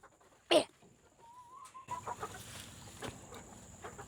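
Backyard chickens clucking and squabbling as they fight over thrown bugs, with a loud squawk early on, then a steady stream of close clucks and scratching.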